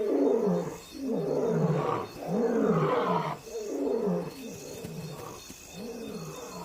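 Male lions roar at night near the Luangwa river, a series of deep, loud, rhythmic roars and grunts repeating close by without any talk.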